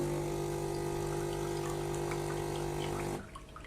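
A Gaggia Naviglio espresso machine in test mode pumps water through its dispenser during degreasing, a steady loud buzzing hum that runs for about three seconds and then cuts off abruptly, leaving a faint trickle.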